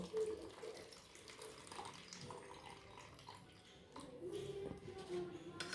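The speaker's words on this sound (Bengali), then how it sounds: "এই জলটাকে আগে কাত করে ফেলে নিই তারপরে নিংড়ে নেবো" Water running off a tilted plate of grated bottle gourd being prepared for kofta curry, a steady moderately loud trickle and splash lasting throughout with no break.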